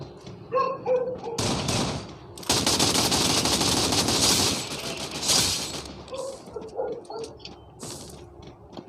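Loud gunfire in a shooting video game, with sustained bursts of automatic fire and scattered single shots and thuds that come and go over several seconds.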